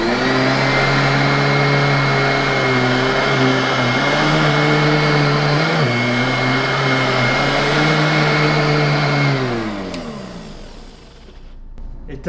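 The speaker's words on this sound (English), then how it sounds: "you can hear the real sound of the machine running." A Royal Everlast 8100 upright vacuum cleaner runs steadily with a loud, constant motor whine and hum, its pitch dipping briefly before winding down as it is switched off near the end.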